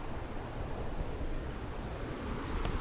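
A low waterfall at a hidden village gives off a steady, dense rush of falling water, an even roar with no breaks and no voices.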